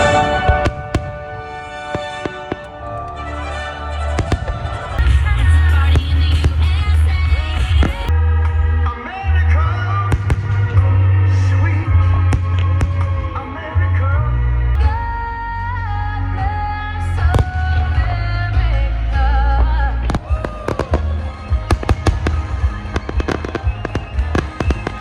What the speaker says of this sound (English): This was one of the best fireworks shows I've ever seen